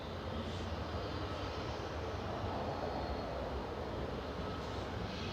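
An Embraer 195 jet at Manchester Airport, its engines giving a steady, moderately distant rumbling roar that stays even throughout with no talking.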